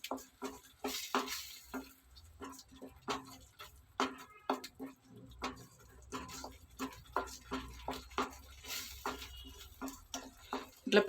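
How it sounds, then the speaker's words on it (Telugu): Okra frying in a pan for a tamarind stew, with frequent light taps and scrapes from a spoon stirring it and a quiet sizzle underneath. "ఇట్లా పచ్చివాసన పోయేదాకా వేయించుకుందామండి."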